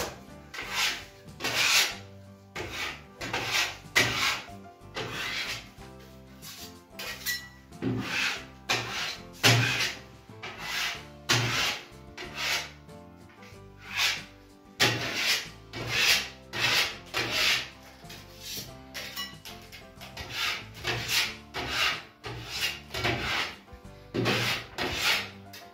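Steel spatula scraping and smearing Nubuk decorative plaster across a bathroom ceiling, a steady series of rasping strokes with short pauses between passes, close and moderately loud, no voices.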